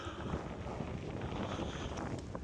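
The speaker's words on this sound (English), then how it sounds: "if you can't hear the wind, it's pretty windy" Strong wind blows at a cow pasture apiary on a cloudy day, a loud, steady roar that buffets the microphone throughout with no letup.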